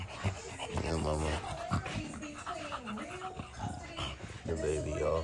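A Boston Bully puppy whimpers and yips in short, high, wavering cries close by, mixed with people talking over it.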